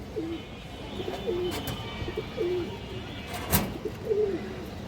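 Pigeons of old local breeds cooing repeatedly in soft, low, rolling calls, several coos spaced through the moment, with a brief louder thump partway through.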